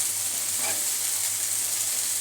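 Spices with turmeric and chili powder sautéing in a pan for a tengra fish curry with potato and greens, a continuous even sizzle and hiss, close and steady, without voices.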